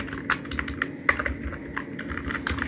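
Quick bursts of keystrokes on a computer keyboard, soft, close clicks tapped in an uneven rhythm with short pauses between them and a low room hum underneath.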